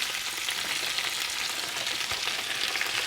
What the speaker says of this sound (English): Then you just want to move it around. Get all the spinach coated with the oil and the garlic